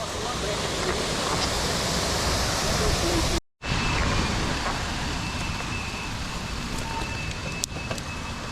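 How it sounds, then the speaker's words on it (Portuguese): A waterfall on a trail at Peirópolis, heard as a steady, dense roar of rushing water at close range, broken by a brief dropout, with strong wind in the recording and occasional faint speech. "Terceira cachoeira."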